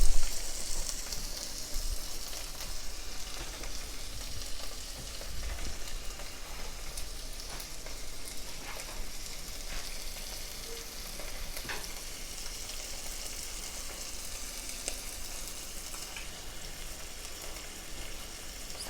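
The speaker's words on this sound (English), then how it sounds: "So we're just gonna saute the shrimp" Shrimp sauté in a pan for Singapore chow mein, giving a soft, even, rain-like sizzle that continues for a long stretch at low volume, with faint occasional clicks and no talking.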